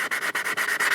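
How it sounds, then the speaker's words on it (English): An emery board rubbing back and forth on a styrene tabletop gaming model, rapid rhythmic scratchy strokes about ten in a second, close and fairly loud with no talking. "This is just an emery board, just sanding it down"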